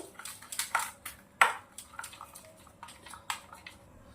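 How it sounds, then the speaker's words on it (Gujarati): A spoon mixes yogurt with red chili, turmeric, coriander and salt into a paste in a bowl, making a series of light clinks and taps against the bowl with soft stirring between. "આપણે આને મિક્સ કરી અને પેસ્ટ બનાવી દેવાની છે"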